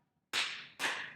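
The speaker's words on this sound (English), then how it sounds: "Everybody clap." Two sharp hand claps from children clapping along to a sing-along song, about half a second apart, crisp and bright with a short room ring after each.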